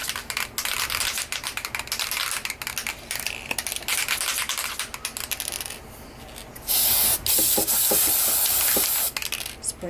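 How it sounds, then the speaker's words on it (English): Rapid hissing bursts of an aerosol spray adhesive can coating the back of a card inside a box, with clicks and tapping around them, then a longer continuous spray near the end. "Spray the back of it."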